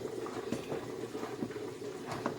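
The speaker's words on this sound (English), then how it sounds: "gonna let this boil for like say 5 minutes" Sauce thickened with cornstarch bubbling in a pot for a Jamaican-style glazed pigtail dish, quiet intermittent pops and burbles of boiling liquid close by, no speech.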